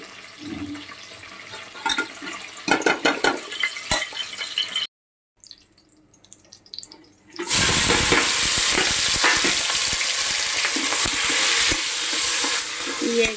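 Oil and ghee hit a hot pan for chicken biryani, starting with scattered stirring and clinks, a brief near-silence, then a loud, steady broadband sizzle of frying that carries on to the end.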